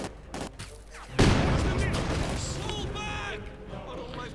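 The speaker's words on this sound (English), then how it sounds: "And there we go, another Panzerwerfer barrage" A Panzerwerfer rocket barrage in Company of Heroes 2 hits as a sudden loud burst of rumbling, crackling explosions that carries on with overlapping blasts, while voices talk over it.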